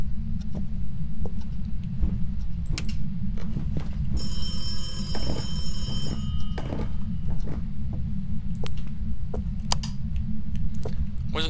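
A telephone rings in the ghost-hunting game Phasmophobia at a farmhouse, a shrill electronic ring lasting a couple of seconds midway through, heard amid a steady low hum, faint creaks and scattered clicks.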